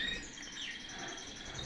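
Small songbird with a black mask singing at a home in Spain, with faint high chirps and trills over a soft noisy background, quiet and somewhat distant.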